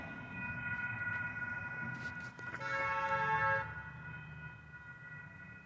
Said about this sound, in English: Bnsf Sac Loco coming.